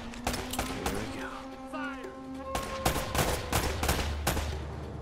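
Gunfire in the PS4 video game Uncharted: Drake's Fortune: repeated sharp shots crack out in uneven bursts and single pops, close and loud, over a steady low background of game effects.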